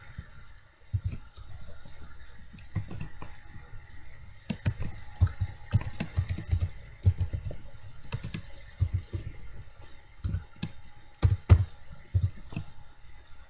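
Rapid typing on a computer keyboard while writing HTML code, a steady run of close, crisp key clicks with irregular bursts and short pauses, heard alone.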